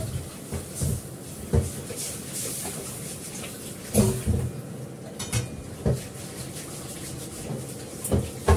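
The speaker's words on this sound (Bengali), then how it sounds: "ভালো করে কড়াটা ধুয়ে নিই।" A kadai (wok) being washed clean in a kitchen, with scattered metallic knocks and scrapes, splashy hiss and clatter of a pan handled under running water, close and moderately loud, no talk.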